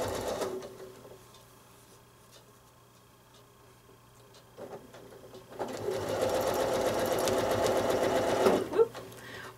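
A sewing machine stitches a quilt basket block, with quiet clicks and handling noises at first, then a fast, close, continuous mechanical whirring run of stitching that stops abruptly near the end.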